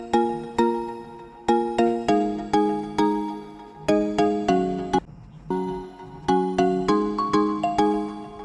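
A bright, chiming phone ringtone plays a repeating melodic pattern of plucked tones, loud and clear, with a brief pause midway before resuming.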